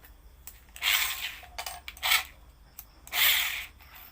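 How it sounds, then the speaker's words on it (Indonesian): Three separate bursts of harsh, grinding mechanical noise from a drill boring into the center of a small metal fishing-lure propeller blade, each lasting about half a second, close by with quiet gaps between them. "selanjutnya kita bor bagian tengahnya bosku ya"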